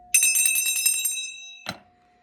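Small bells shimmer in a rapid, bright tremolo for over a second, ending in one final clanging strike that rings out close by and fades.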